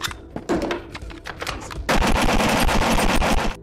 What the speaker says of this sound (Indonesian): sempat mengetes beberapa pistol hingga akhirnya mereka pun pergi